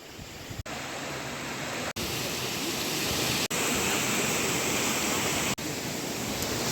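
Steady roaring rush of the Huk waterfall in Yaremche, Carpathians, with broad hissing spray, loud and close, continuous throughout with a few brief dropouts.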